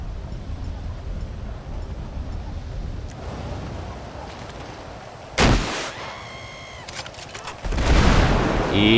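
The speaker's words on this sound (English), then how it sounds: "And the nuke explosions are working." Nuke explosions in modded GTA 5 played in VR: a sharp, heavy blast bursts out midway, then a second, louder roar swells near the end and keeps rumbling over a steady background din.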